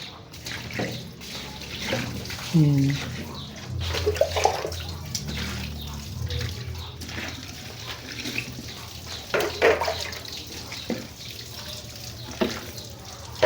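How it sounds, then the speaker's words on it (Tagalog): Water splashes and pours over a bicycle being washed, with uneven sloshing and trickling close by and a brief spoken word near the start. "Buhusan muna natin yan ng tubig."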